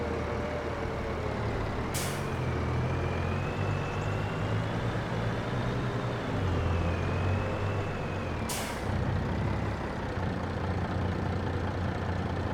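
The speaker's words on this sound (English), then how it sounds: "we get to try out the ability of the Volvo truck to see where I can and can't go" A Volvo truck driving in Farming Simulator 22, a continuous loud engine drone and rumble with two sharp air-brake hisses spaced several seconds apart.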